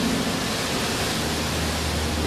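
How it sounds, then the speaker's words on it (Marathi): A tall waterfall in Tamhini Ghat, heard as a continuous broad roar of falling water that is steady and loud throughout, with no voices. "तामिणी घाटामधील मी पाहिलेला हा सर्वात उंच धबधबा."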